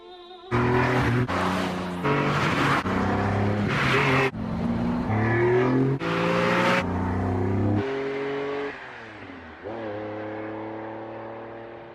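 A supercar drives along an empty road on a summer's day, its loud engine climbing through several sharp gear changes before easing off and accelerating again, heard alone and close.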